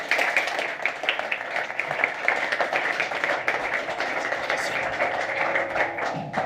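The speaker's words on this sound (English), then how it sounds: "Big round of applause for them." A conference audience applauds the panelists after a defence-tech discussion, a sustained, even patter of many hands clapping at moderate volume throughout.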